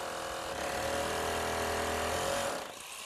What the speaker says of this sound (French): Je prends ma perceuse, percer les trous